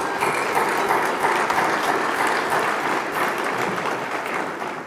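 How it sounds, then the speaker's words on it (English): Audience applause at a State Bar of Texas bar leaders recognition luncheon: a large crowd clapping in a dense, steady roar for about five seconds, tapering slightly at the end, with no talk. "One more round of applause for them."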